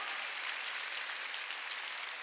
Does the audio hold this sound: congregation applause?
yes